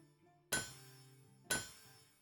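Two loud metallic hammer strikes on metal at a blacksmith's forge in the video game Blacksmith Master, evenly spaced about a second apart, each with a bright clanging ring that fades over quiet background music.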